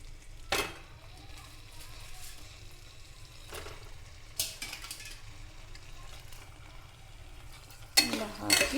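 Washed fish goes into hot masala for a native-style fish curry, setting off bursts of close sizzling and frying with a few louder surges between quieter stretches.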